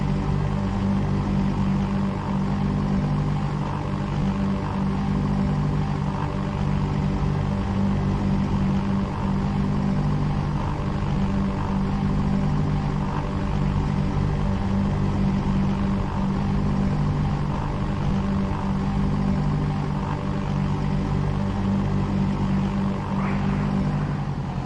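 A Christen Eagle 2 propeller aerobatic biplane engine in DCS World drones continuously through spins, a steady loud rumbling buzz with a strong low tonal hum and airy noise, holding nearly constant with no talk.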